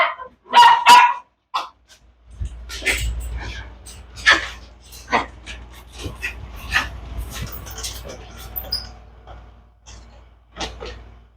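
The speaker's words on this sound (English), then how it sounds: "This dog's not very bright." A dog barks in a few sharp, close yips and barks outdoors near a garden, interspersed with a voice speaking and calling over a low rumbling background.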